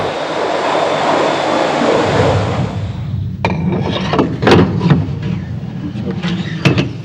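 A single-engine turbojet military jet passes with a broad roaring rush that fades after a few seconds, leaving quieter rumble and scattered knocks.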